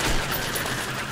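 Submachine gun fire in Metro Last Light, a continuous dense rattle of rapid shots filling the whole moment, loud and close with no talk over it.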